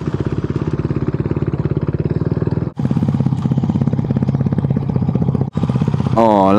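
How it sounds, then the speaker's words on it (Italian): A motorcycle engine idles close by with a steady, throbbing pulse, briefly cutting out twice and then revving. "c'è il rumore della moto"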